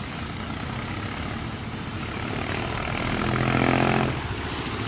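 A small boat loaded with salt motors along, its engine a steady droning hum that swells louder over several seconds before easing back slightly.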